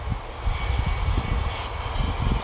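Airplane engine drone under a dark, rain-cloud sky, a steady low rumble holding through the whole stretch with no talk.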